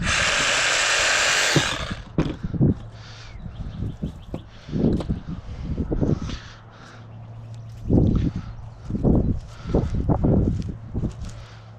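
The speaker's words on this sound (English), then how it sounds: "Once again, Sawzall comes in handy." A Sawzall reciprocating saw cuts miscanthus rhizomes, a brief loud buzzing burst at the start, then a series of irregular chopping and rustling thuds from working the clumps.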